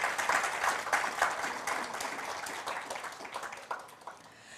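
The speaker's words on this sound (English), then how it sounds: "Let's give them both another well-deserved round of applause" An audience applauds at the AFC Women's Champions League group stage draw ceremony, giving a dense round of clapping that starts full and gradually thins and fades over a few seconds.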